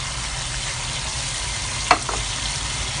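Pineapple and mixed vegetables sizzle steadily in a hot pan as they are stir-fried into a sweet-sour sauce for three-flavour fish, with a brief scrape of the utensil near the end.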